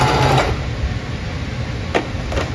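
A sewing machine running a zigzag stitch to attach a button, a loud, steady mechanical whirring close up with a couple of brief clicks and knocks.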